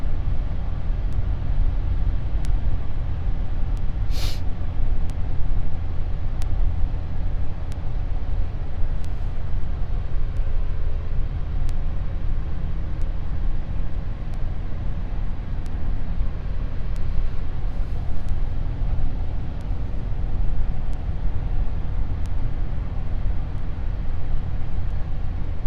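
Steady low road drone from inside a 2004 Ford Ranger pickup truck cruising on the road, continuous broadband engine and tyre noise with faint ticking, no talk.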